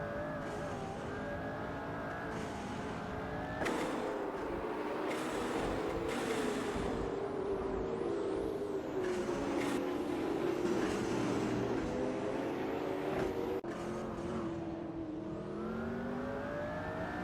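Hypercars race at Spa in a racing simulator game, with a McLaren among them. Engines rise and fall in pitch as the cars accelerate and shift, and layered engine notes continue steadily throughout.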